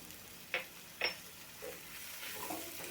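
A spatula stirs capsicum and besan sabji with chopped coriander in a pan, giving two light taps and a few soft scrapes over a faint sizzle, quiet and close.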